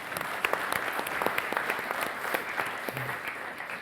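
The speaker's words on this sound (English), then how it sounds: "Let's give Christian a round of applause" Audience applause in a conference hall at a panel discussion on prosperity, a moderate crowd clapping with individual claps popping out of a steady, fairly distant wash.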